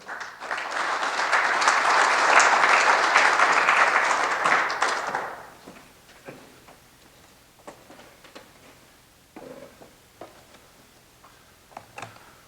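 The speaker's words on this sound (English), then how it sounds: "Let's give a big round of applause for Gene Griffin." Audience at a summit applauding a speaker, a swelling burst of many hands that peaks and then stops about halfway through, followed by quieter scattered taps and small room noises.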